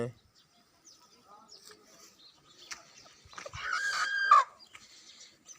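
Roosters and hens at a rural home cluck faintly at moderate distance, then one rooster crows clearly and fairly close near the end, with brief rustling in between.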